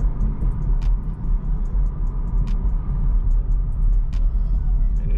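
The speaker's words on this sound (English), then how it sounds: "So as soon as you step on this car," Engine of a 2021 Camaro SS accelerating on the road, a steady heavy low rumble with road noise from inside the car, loud and continuous with a few faint clicks.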